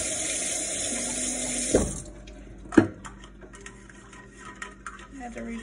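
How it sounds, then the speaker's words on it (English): Tap water runs into an ice tray for a couple of seconds, then stops, followed by a few sharp clunks and quiet handling noises in a kitchen. "I had to refill my ice tray."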